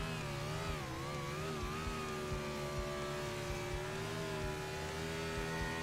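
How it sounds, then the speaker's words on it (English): A race car in a Wild 125 race at Auto Club revs hard through a burnout, its engine a loud, sustained snarl with shifting pitch over the roar of tire spin. "What a burnout here."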